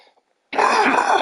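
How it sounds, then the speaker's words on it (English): A single abrupt cough bursts out after a brief silence, loud and close, with a rough throaty rasp that sustains through the rest of the moment, from someone still recovering from illness. "Excuse my cough."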